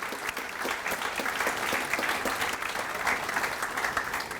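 A banquet audience applauds scholarship recipients at an annual awards dinner, with steady, dense clapping that fills the room evenly from start to finish.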